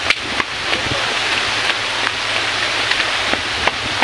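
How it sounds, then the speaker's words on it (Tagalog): Heavy rain pours steadily in a forest resort in Bohol, a dense, continuous wash of drops close by with occasional louder splashes and no talking. "lumakas na yung ulan"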